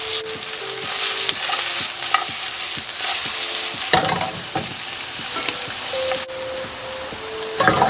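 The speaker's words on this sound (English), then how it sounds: "And now our onions are slowly starting to caramelize." Onions sizzle and caramelize in a hot pan, a continuous close frying hiss broken by repeated scraping and stirring strokes and light utensil knocks against the pan.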